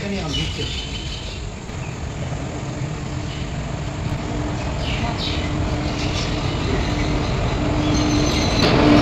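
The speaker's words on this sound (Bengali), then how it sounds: "ট্রেন আসছে।" A train pulls into a station at night, its rumbling wheels and carriages building in loudness, with a thin metallic squeal near the end, passengers talking faintly and insects chirping in the background.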